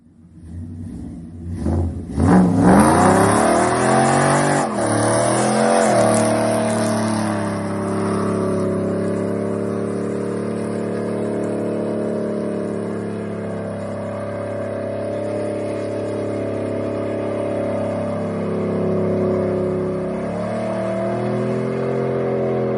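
A Ram 1500 Hemi pickup with a 3600 stall converter roars through a burnout, its engine revving hard at first and then holding a loud, sustained high-rpm drone with slight wavering.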